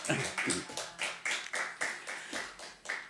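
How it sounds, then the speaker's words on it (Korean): A church congregation claps together in a steady unison rhythm, about eight even claps, close and moderately loud. "우리 두 분 위해서 박수 한번 하겠습니다"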